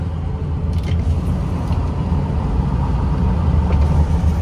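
A 2007 Ford F-250 Lariat 4WD pickup with a 6.0L Powerstroke diesel driving along, its low, steady engine and road rumble heard close and continuous from inside the cab, with no voices.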